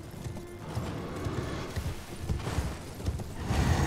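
Horses' hooves clip-clopping in the video game Elden Ring, a steady run of close, loud hoofbeats against busy game ambience, with no talking.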